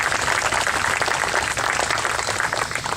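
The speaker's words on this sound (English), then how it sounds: "Let's give them a round of applause." Audience applause at the grand opening of a Route 66 roadside park in the Ozarks, a dense, continuous outdoor clapping that stays loud and even throughout with no speech.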